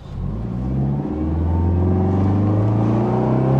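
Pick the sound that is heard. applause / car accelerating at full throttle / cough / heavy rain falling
car accelerating at full throttle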